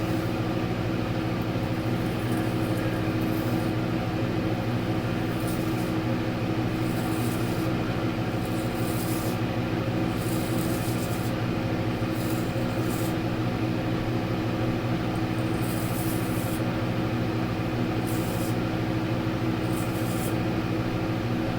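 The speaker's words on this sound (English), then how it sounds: "Sorry about the fan noise," A steady, loud electric fan runs continuously close by, with a constant broadband whoosh and low hum during a shave with a razor, and faint intermittent scraping on top.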